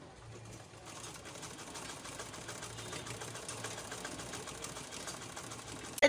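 A sewing machine stitches a long fishtail gown with a steady, fairly quiet mechanical whir that runs the whole time, ending in a short sharp knock.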